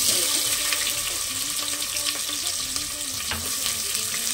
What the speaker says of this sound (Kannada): ನೋಡಿ ಫ್ರೆಂಡ್ಸ್, ಈರುಳ್ಳಿ ಹಾಕ್ತೀನಿ ಇವಾಗ